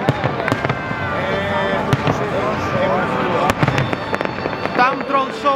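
Fireworks bang and crackle in rapid, irregular bursts at a moderate distance, with people talking throughout underneath the explosions.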